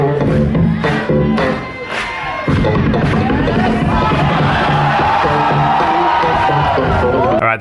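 A live audience cheers, whoops and shouts loudly after funky slap bass triplets, the crowd noise dipping briefly before surging back into a sustained roar with a few thumps mixed in.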